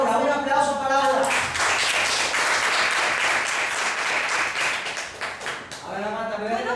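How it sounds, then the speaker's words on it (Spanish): Lively applause and clapping from an audience at a talk, welcoming a woman named Aura, rising right after a voice speaks and fading as talking returns at the end. "Un aplauso para Aura."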